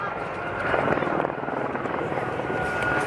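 Light aircraft flying a formation display at the Swansea Air Show, a steady droning engine roar at moderate distance that swells slightly and holds, with a commentator talking over it.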